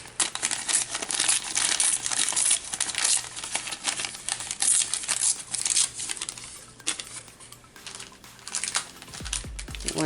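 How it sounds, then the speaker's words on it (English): Printed paper images are torn out one by one by hand for acetate-framed envelopes, giving close, busy ripping and crinkling with rapid bursts of paper noise throughout and no talk. "So we're just going to tear these out."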